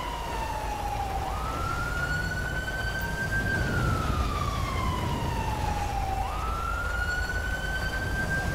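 An ambulance siren in GTA 5 with the LSPDFR police mod wails in slow rising and falling sweeps. It sounds fairly close and steady over a rumbling street background.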